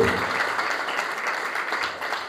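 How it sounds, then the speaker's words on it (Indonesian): Applause from a church congregation, a steady dense patter of many hands throughout, moderately loud and without talk. "Sekali lagi tepuk tangan yang terbaik bagi itu"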